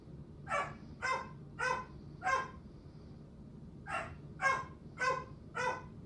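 A roommate's dog barking indoors, four sharp barks in even rhythm, a short pause, then four more, fairly close over a low background hum.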